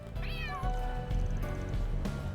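A cat in the video game Trails through Daybreak 2 gives a clear, close meow that rises and falls, followed by softer murmuring sounds.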